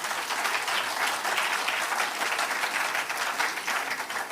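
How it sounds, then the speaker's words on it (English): An audience at a leadership lecture gives a sustained round of applause, dense steady clapping from many hands filling the room without pause. "I want each and every one of us to give him a resounding round of applause."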